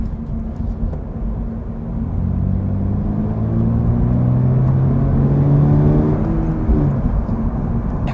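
Subaru BRZ tS boxer engine pulling under load from inside the car, a steady low rumble with rising harmonic sweeps as the revs climb and ease through a gear, loud and continuous with no talk.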